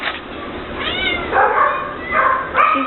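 Cats meow in a cat room, a few rising, plaintive calls repeated at close range over a low background, with no talking.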